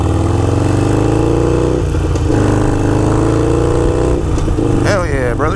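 Motorcycle fitted with a Gallop Exhaust Mighty Comet exhaust cruising down Highway 44, a steady loud low engine drone running throughout, with a brief shift in tone near the end.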